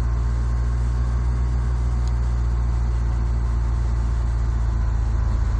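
Steady low engine drone of a Cessna 172 in a flight simulator, a continuous hum that holds level throughout with no talking.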